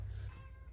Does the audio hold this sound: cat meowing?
yes